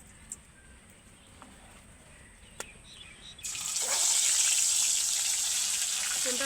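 Tilapia fish hits hot oil in a pan for a spicy oil curry, setting off a sudden loud, steady hiss of sizzling frying that holds after a quiet stretch with a couple of small clicks.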